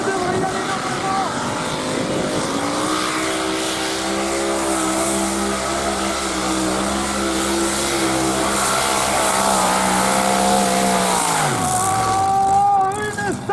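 A roughly 5000-horsepower tractor-pulling engine roars loud and close, its pitch climbing and holding through a long pull before dropping off sharply near the end, with faint voices in the background.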